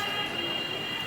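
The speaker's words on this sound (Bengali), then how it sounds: "ট্রেন দাঁড়ায় গেছে, লোকজন নামতেছে।" A passenger train in Bangladesh stands at a station, a dense steady rumble with a faint high-pitched whine running through this short moment.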